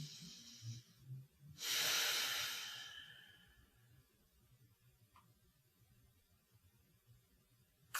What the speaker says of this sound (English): Under the nose, deep breath.